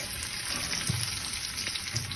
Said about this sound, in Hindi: अब मैंने ये देसी घी डाला है माशाल्लाह से। और अब हमारा जो है फाइनल तड़का हो रहा है।